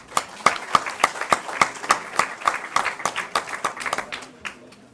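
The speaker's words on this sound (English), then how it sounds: "Give yourselves a round of applause." Applause from a conference audience at the close of an international conference on the Rohingya crisis, a few distinct rhythmic claps near the front among scattered clapping that thins and fades toward the end.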